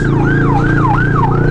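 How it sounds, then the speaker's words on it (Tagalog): A loud, close ambulance siren wails in a rising and falling sweep, repeating every few tenths of a second over a rumbling vehicle engine. "Ayan na yung ambulansya guys."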